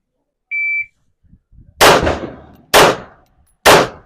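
A shot timer gives one short electronic beep, and then three loud, sharp pistol gunshots follow at a steady pace during a beginner tactical defense shooting drill, each one ringing briefly before the next.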